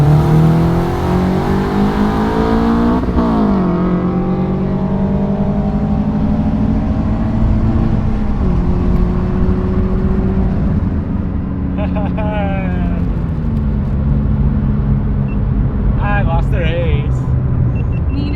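Loud engines roar and climb through gears as a stock FRS and a Stage 2 BRZ drag race side by side, with shifts breaking the rising pitch and voices faintly underneath.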